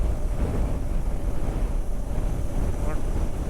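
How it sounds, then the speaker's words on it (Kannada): Strong wind roars and buffets the microphone on a motorcycle ride along the Hospet highway, a loud, continuous rushing noise with no break. "ಹೊಸಪೇಟೆ ಹೈವೇದಲ್ಲಿ ಗಾಳಿ ಹೆಂಗೆ ಹೊಡೆದಿದ್ದಾನೆ ನೋಡಿ"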